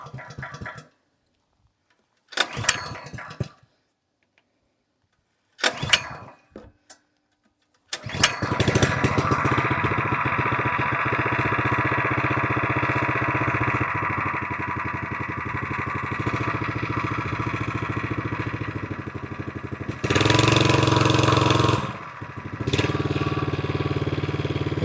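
The 78.5cc gas engine on a VEVOR plate compactor sputters through several short pull-start attempts, then catches and runs loudly and steadily nearby, with a brief surge in revs toward the end.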